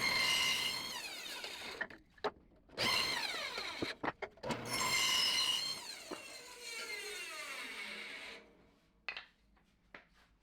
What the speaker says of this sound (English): On the bandsaw, I cut about 2 inches through them to give space for a wedge.